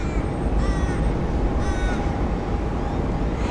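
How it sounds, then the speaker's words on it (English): An Australian raven gives several drawn-out, nasal caws at moderate distance on a hot day in Sydney, repeated over a steady wash of outdoor noise. "Can you see that noisy Australian raven?"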